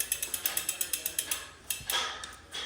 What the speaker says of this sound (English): the torque wrench will tell you when you're at 8 Newton meters. It'll click.